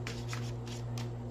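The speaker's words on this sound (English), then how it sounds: "I'm going to shuffle." Tarot cards being shuffled by hand, several crisp riffling bursts in quick succession over a steady low hum, close and fairly quiet, with no talking.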